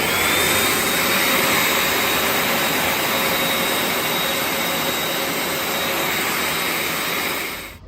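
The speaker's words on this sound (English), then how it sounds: "It's just warm air, kind of similar to the public bathroom hand dryer." Warm air blower running steadily to dry a Tesla Model 3 surface before a spoiler is fitted, a loud continuous hand-dryer-like whoosh that holds for several seconds and cuts off at the end, with no talk.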